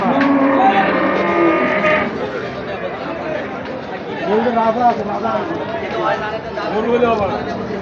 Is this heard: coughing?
no